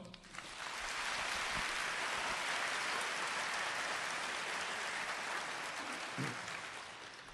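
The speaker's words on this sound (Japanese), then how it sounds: "大きな拍手" Loud applause from the audience at Nagoya Grampus's 2020 new-lineup presentation, swelling quickly into a dense, even roar of clapping that holds steady before easing off near the end.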